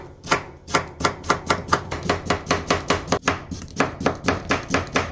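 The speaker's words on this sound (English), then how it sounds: "now you've got all your diced cucumbers" Knife rapidly dicing cucumber on a cutting board, a steady run of sharp, close chops repeating about three times a second with no talk.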